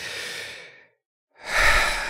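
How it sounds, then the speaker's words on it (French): One big, deep breath taken close up during a guided hypnosis relaxation: a long airy inhale, a brief silent hold, then a fuller, louder breathy exhale, with no talking. "vous allez prendre une grande et profonde respiration"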